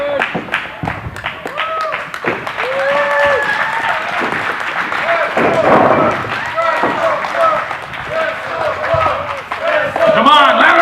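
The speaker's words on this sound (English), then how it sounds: "Come on, let's give a round of applause." Wrestling club audience at a live show applauds and cheers in a noisy crowd roar, clapping mixed with shouts and whoops, continuous and building toward the end.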